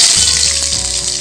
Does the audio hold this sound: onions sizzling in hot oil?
yes